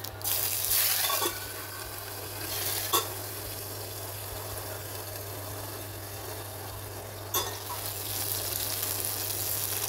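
Green chillies hitting hot oil for a lemon dal tadka, a steady loud sizzle and frying hiss throughout with a couple of brief sharper crackles, no voices.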